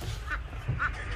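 Two short, nasal duck quacks about half a second apart, heard from inside a motorhome on a road trip through a rural village in Central Java, over a steady low background rumble.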